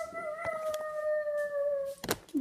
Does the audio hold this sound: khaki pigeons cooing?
no